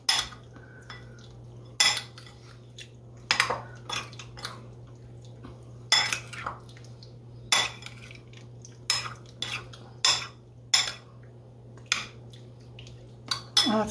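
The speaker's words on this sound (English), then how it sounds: "So I'm going to go ahead and just stir this up." Spoon scraping and clinking against a bowl while stirring fruit pie filling with cardamom and pineapple, repeated sharp taps at an irregular rhythm over a low steady hum, close and alone with no talk.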